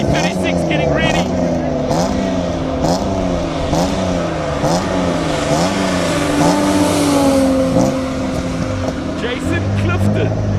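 A BMW E36 race car warming up at a classic car event in Cape Town, engine idling and blipping with rising and falling revs, loud and close, with other engines and crowd noise behind.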